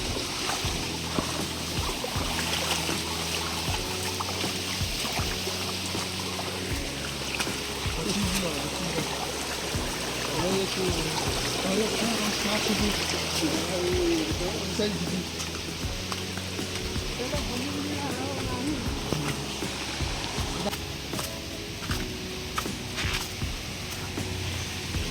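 Water flows steadily along a forest stream on a hillside near a temple, a continuous broadband rush of running water with faint speech mixed in.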